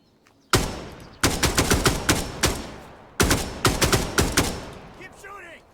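Loud gunfire in Dagger Directive, fired in two close rapid bursts of roughly half a dozen sharp shots each, every crack decaying quickly, after a single opening shot.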